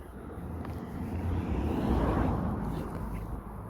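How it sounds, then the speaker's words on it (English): A car passes by on a nearby road outdoors, a broad rumbling swell that builds to a peak midway and slowly fades away again. "there are downsides, such as the occasional car that passes you by. It can be loud and interrupt the audio."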